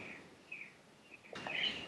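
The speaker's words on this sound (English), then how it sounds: "As I'm listening to you, Ram Dass, I'm hearing a bird in the background." Bird singing outdoors on Maui, faint high chirps drifting in a quiet background, with a brighter, louder burst of song toward the end.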